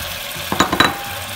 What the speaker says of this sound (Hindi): इसमें हल्का से इसको ऑयल में भूना और फिर ये टमाटर ऐड कर दिए